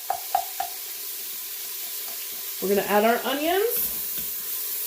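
Onions sizzle loudly as they hit a hot pan while braising beef short ribs. The frying hiss swells and continues after a few sharp clicks, with a voice speaking briefly over it.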